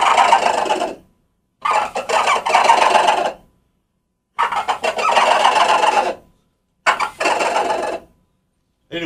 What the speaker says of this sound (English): But this is the gobbler call.